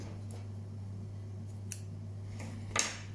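Scissors snip through yarn tails on a knitted newborn Christmas beanie, one quiet, crisp cut near the end, heard close up over a steady low hum with a few faint ticks before it.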